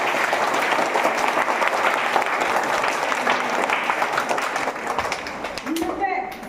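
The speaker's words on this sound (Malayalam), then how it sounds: "അവർക്കൊരു വലിയ കയ്യടി കൊടുത്തേ" Sustained applause from an audience at a school assembly, dense steady clapping throughout that thins slightly toward the end, with a brief voice near the close.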